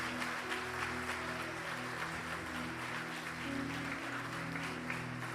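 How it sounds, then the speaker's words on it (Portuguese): Church congregation applauding for Jesus at the close of a Portuguese-language sermon, a steady wash of clapping throughout with sustained organ or keyboard tones and faint voices underneath. "Dê o seu melhor aplauso para Jesus."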